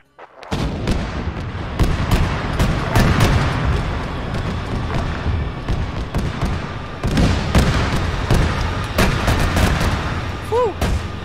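Rapid gunfire and heavy booms from a military video game set on an Iranian front, with missiles launching amid dense bursts of shots and explosions that run loud and continuous, with sharp cracks throughout and a voice briefly heard.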